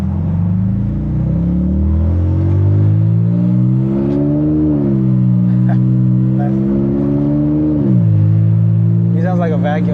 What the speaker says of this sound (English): He sounds like a vacuum, and my car sounds like a lawnmower.